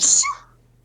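A single sharp sneeze bursts out up close, then fades quickly into near silence.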